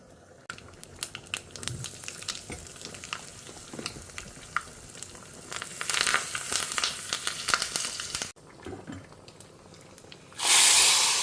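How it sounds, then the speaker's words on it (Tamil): Hot tempering spices are poured into a pot of sambar sweetened with a lump of jaggery, setting off a loud, steady sizzle and crackle that swells partway through, with a sharper, brighter hiss near the end. "இப்போ நம்ம தாளித்து கொட்டிடலாம்"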